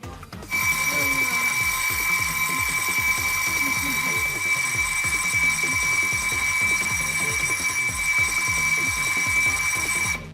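A loud electronic alarm rings steadily and continuously with a piercing high tone, unbroken from start to finish.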